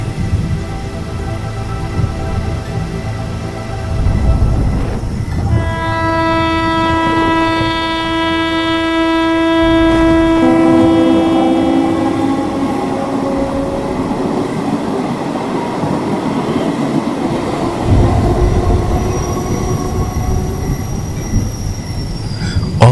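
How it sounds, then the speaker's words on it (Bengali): A cartoon train pulls into an empty station at night, wheels squealing in long, high, sustained tones and rails rumbling loudly as the cars roll in and slow. "অবশেষে ট্রেন এলো আমি ট্রেনে উঠে বসলাম"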